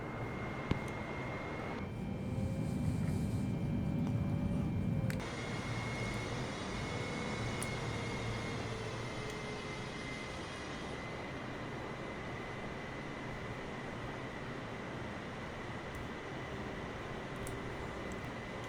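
Boeing 767-300 taking off in a flight simulator: a long, steady roar of jet engines spooling up, with a sustained high whine over heavy low rumble that shifts partway through and then holds loud and continuous, without speech.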